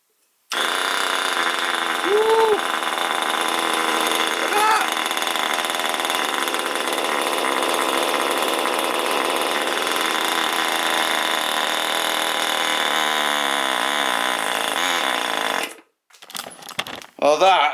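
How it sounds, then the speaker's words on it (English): An old, roughly 50-year-old RC helicopter glow engine, flick-started by hand, roars into a loud, continuous high-pitched running whine that holds steady for about fifteen seconds before cutting out, followed by brief clatter and a voice. "check this out, see if it runs again. Flick starting with my fingers"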